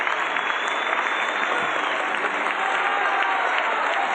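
A large open-air crowd at a 1983 San Francisco Opera in the Park concert keeps up sustained applause and shouts for an encore after Welsh soprano Margaret Price performs, a steady, roaring wall of clapping from far off.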